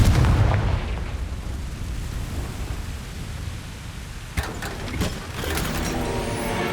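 A Confringo blasting curse from the Hogwarts Legacy video game goes off with a heavy, booming burst at the start, then a rumbling noisy tail with sharper cracks and pops near the end.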